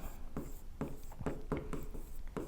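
A pen writes on paper in short repeated scratching strokes, close and fairly clear, about six quick marks in a row.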